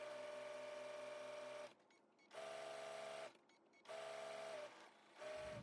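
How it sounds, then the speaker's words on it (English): A sewing machine stitches straight down the edge of a body pillow case in steady humming runs of about one and a half seconds each, separated by brief quiet pauses, close and alone. "So we're just gonna continue sewing straight down."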